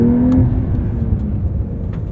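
A 2023 Porsche 911 Carrera T with a manual gearbox drones loud and close from the cabin, its engine note easing down in pitch as it cruises, with no talk.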